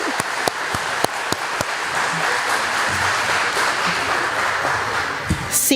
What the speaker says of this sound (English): Let's give you all a round of applause right now for your commitment to these students